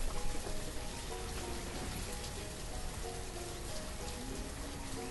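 Dense, even rain in the Banished settlement game hisses loudly and without a break, with light background music playing quietly underneath the downpour.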